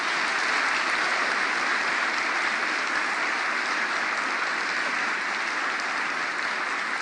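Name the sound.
audience applause in homage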